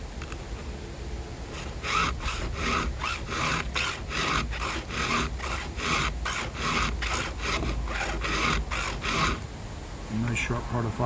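Hand file rasping across a damaged chainsaw chain tooth, a steady run of about fifteen rhythmic strokes, close and fairly loud, with a brief pause then another stroke near the end.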